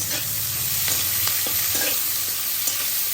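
Onions fry in oil in a wok for a mutton curry, giving a steady, loud sizzle broken by soft scraping from stirring, with no talking.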